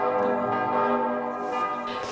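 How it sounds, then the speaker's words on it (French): Church bells ring out in a sustained, resonant peal, loud and continuous, tones overlapping and hanging in the air. "Les cloches"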